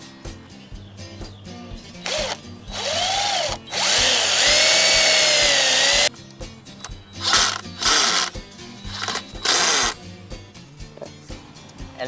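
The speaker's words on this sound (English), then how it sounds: "You want to drill it onto the second one." Power drill driving into wood while building a garden trellis, a few separate bursts of whirring that rise and fall in pitch between quieter pauses, close and loud, with no talking.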